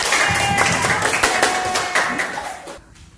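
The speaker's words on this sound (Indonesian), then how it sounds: "Kasih tepuk tangan untuk kelompok." Classroom applause for a presenting student group during a science lesson, a steady patter of many hands that holds for a few seconds and then thins out toward the end.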